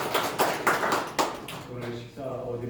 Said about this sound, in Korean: 오늘 말씀 주신 박 목사님에게 감사의 박수를 한번 올리겠습니다